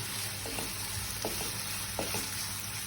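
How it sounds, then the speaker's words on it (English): Steady hiss of onions sizzling in hot oil over a high flame, with a few soft clinks of a utensil stirring at regular intervals, close and moderately loud. "So I'm frying the onions on a high flame."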